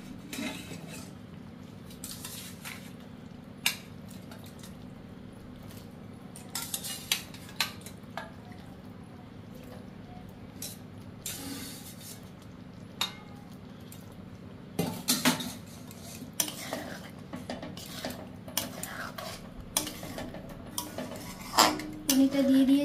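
Soft paneer cubes are added to gravy in a pan, with repeated metallic clinks and scrapes of a spoon against cookware over a quiet background, busier toward the end.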